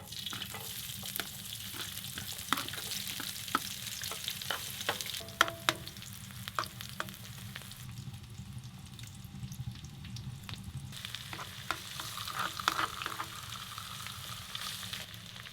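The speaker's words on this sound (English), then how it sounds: "And it's boiling already." Water boils on a stove at an off-grid wilderness cabin built from recycled pallet wood, giving a steady close bubbling hiss broken by scattered sharp pops and crackles, with no talking.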